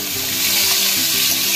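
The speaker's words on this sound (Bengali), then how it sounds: "কাঁঠালের দানা ছাড়া হচ্ছে।" Jackfruit seeds fry in hot oil with dried red chillies, giving a loud, dense, close sizzle with faint popping throughout the short burst.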